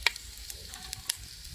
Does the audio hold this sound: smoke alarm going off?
no